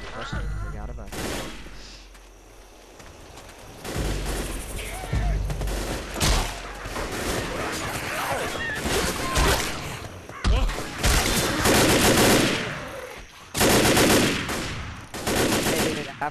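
Gunfire in Left 4 Dead: repeated bursts of sharp shots with bangs and thuds in close, loud clusters separated by short lulls, with players talking now and then.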